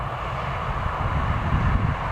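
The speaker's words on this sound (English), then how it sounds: "KLM is definitely close now. So in fact he's almost about to touch down. Nice little Embraer there." A KLM Embraer jet on final approach to touch down at Newcastle Airport, a steady low engine roar holding fairly constant and swelling slightly toward the end.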